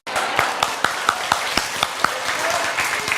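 A single person claps about a dozen times at a steady, deliberate pace, each clap sharp and close in a reverberant room.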